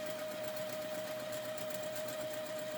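A sewing machine runs steadily, stitching an appliqué petal along a drawn line on fabric, with an even, rapid mechanical whir and a constant tonal hum throughout, no talk.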